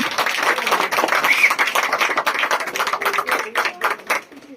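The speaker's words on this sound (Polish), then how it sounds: "dla niego wielkie brawa!" A crowd claps and applauds steadily for a few seconds, the clapping dense and lively before tapering off slightly at the end.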